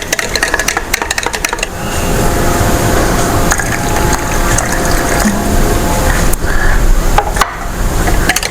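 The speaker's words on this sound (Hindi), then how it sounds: "आधा कप के बराबर मैंने पानी ऐड किया है।" Half a cup of water poured into sweetened yogurt in a bowl while making an iftar drink gives a steady, close splashing and gurgling that starts after about two seconds and runs on without a break. No one speaks.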